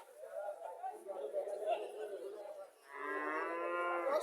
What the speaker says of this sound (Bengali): এখানে আর একটা দেশি গাভী দেখা যাচ্ছে